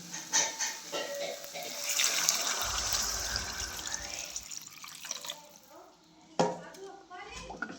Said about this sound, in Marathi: आता ह्याच्यामध्ये गरम केलेले पाणी टाकून घेते